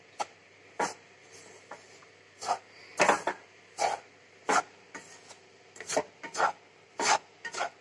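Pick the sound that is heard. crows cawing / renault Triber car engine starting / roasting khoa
roasting khoa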